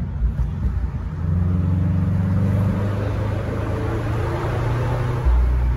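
Subaru BRZ fitted with aftermarket headers, heard from inside the car as the engine rumbles through downshifts, a low droning tone that steps in pitch as the revs change.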